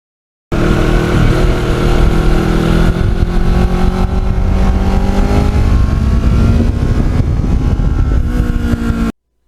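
Kawasaki Ninja motorcycle being ridden, its engine droning loudly and steadily with rising and falling revs as gears change, heavy wind rush mixed in, no talking.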